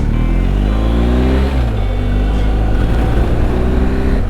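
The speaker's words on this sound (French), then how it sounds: "On dit regarde la moto qui passe." A trail motorcycle rides past up close, its loud, steady engine drone dropping in pitch midway as it goes by, then continuing to rumble as it pulls away.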